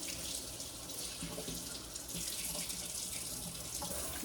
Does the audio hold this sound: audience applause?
no